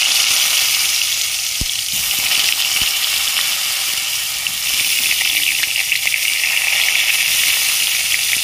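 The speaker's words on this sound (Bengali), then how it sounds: "পটলগুলো আমি ভেজে নিচ্ছি।" Pieces of pointed gourd (potol) fry in hot oil in a kadai, giving a steady, dense sizzle and crackle with a few sharp pops, close and continuous throughout.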